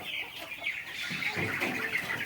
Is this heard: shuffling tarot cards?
no